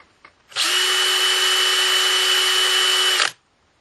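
A DeWalt cordless drill runs in second gear for about three seconds at full speed, a loud steady high-pitched whine close up that starts and stops abruptly, with no voices.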